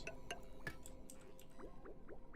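Water trickling and gurgling through pipes in the colony-building game Oxygen Not Included, heard as soft drips and small liquid squelches at a steady quiet level, with a few faint clinks near the start.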